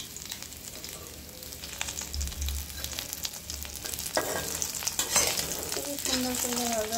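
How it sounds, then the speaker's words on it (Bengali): Tengra fish fry in hot oil with a continuous crackling sizzle, punctuated by stirring and scraping in the pan and some clattering toward the end, quiet and close, with no talking. "খুবই সুন্দর করে ভাজা হয়েছে মাছগুলো"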